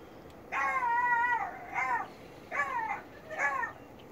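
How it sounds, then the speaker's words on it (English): A beagle left alone howls in a long, crying whine, then gives three shorter wavering cries in an uneven rhythm, fairly faint and with no talk. "It goes from some kind of bark to like a cry."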